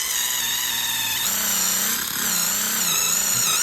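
A power drill whines steadily as it polishes a tarnished nitro muffler to a mirror finish, a continuous high-pitched buzz that shifts slightly in pitch, close up with no voices.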